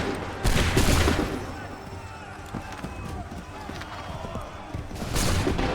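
Musket volleys crack out in Assassin's Creed III, a burst of gunfire near the start and another near the end, with battlefield noise and voices in between.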